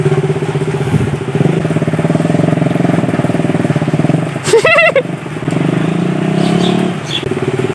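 Motorcycle engine running steadily while the bike is pushed through a muddy road after rain, with a louder revving burst in the middle before settling back to a continuous rumble.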